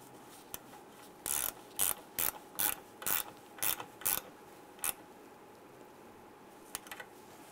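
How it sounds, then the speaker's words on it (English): Short ratchet bursts tighten a bolt during an AC condenser fan job on a 2002-2008 Dodge RAM, about eight quick clicking strokes in a steady rhythm, fairly close and alone, with a couple of faint clicks afterward. "tighten down our bolt here"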